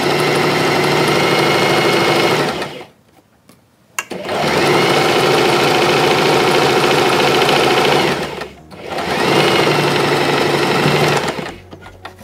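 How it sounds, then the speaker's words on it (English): A sewing machine runs fast in long buzzing bursts stitching fabric for a scrunchie, stopping briefly twice before starting up again, loud and close. "use the sewing machine foot or the lines on the sewing machine to keep you going straight"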